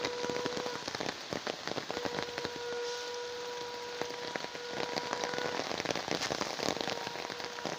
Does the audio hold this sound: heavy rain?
yes